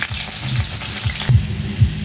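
Chopped garlic and onion sizzle in hot oil with cinnamon and cardamom as a Bengali katla fish curry is cooked, close and loud, with spatula scrapes and stirring thuds in an irregular rhythm.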